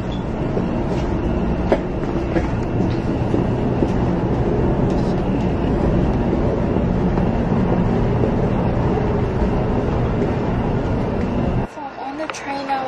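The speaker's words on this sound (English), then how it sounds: "This is the train." A Japanese bullet train in Osaka roars past a station loudly and steadily with rumbling and rattling, then the noise drops off abruptly near the end.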